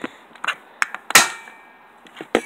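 A loaded gun fires outdoors as a few sharp, separate cracks, with the loudest one about midway and a ringing tail after it.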